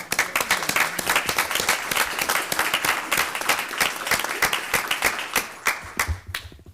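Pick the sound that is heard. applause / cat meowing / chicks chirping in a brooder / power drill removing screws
applause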